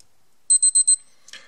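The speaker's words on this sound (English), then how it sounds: "if you press buttons A and B at the same time," A Seiko Arnie SNJ025 ProSpex watch sounds its alarm test: four quick, crisp high-pitched electronic beeps in an even rhythm, close and clear, followed by a faint click.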